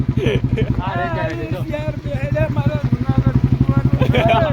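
A Royal Enfield Bullet motorcycle thumps along with its steady, rapid single-cylinder beat throughout, fairly close, while voices talk loosely over the engine.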